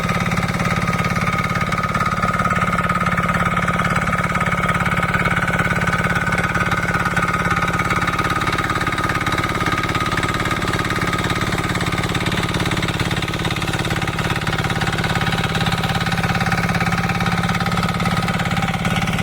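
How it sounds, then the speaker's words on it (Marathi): A tractor engine runs steadily while ploughing a paddy field in the Konkan region, a continuous loud, rumbling drone with a mechanical rattle and no breaks. "ट्रॅक्टर धरलेला तो बघा. प्रत्येकाचे ट्रॅक्टर या पद्धतीत त्याची नांगरणी केली जातात."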